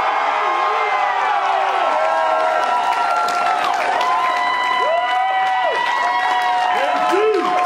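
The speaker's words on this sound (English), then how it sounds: "Everybody, join me in the loudest applause that you can" Loud crowd applause and cheering at a 5LINX SVP celebration as a key is presented to Kwame Gibson, with whoops and voices rising over steady clapping throughout.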